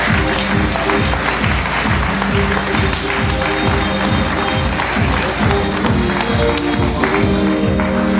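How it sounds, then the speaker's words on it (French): Loud, sustained applause from a TV studio audience, with dense clapping running through the whole stretch and strong rhythmic low thumps of music underneath. "Victor et Yves Chapri, on peut les applaudir encore très très fort"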